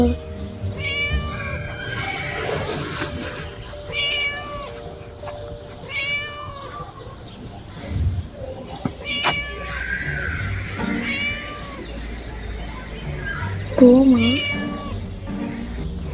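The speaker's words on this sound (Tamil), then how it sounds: "இங்கே தாங்க அந்த பூனை சவுண்டு கேட்குது ரொம்ப." A cat meows repeatedly in Scary Teacher 3D, drawn-out cries recurring every second or two over game background sound and occasional talk.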